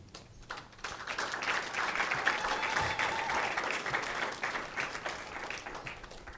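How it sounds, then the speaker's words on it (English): An audience applauds at a medical equipment donation ceremony in Namibia, a crowd of steady clapping that swells after a quiet start and holds through to the end. "But this is a day we must applaud Professor Namwandi."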